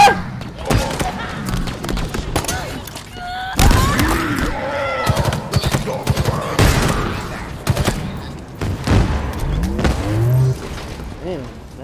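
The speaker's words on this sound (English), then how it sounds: "Explosions." Rapid bursts of gunfire and heavy booming explosions crowd the scene in Halo Infinite, with shouted voices and chaotic game-style effects throughout.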